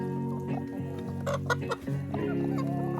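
A laying hen clucks in a run of soft, close calls outdoors on green grass after the snow has melted in early January.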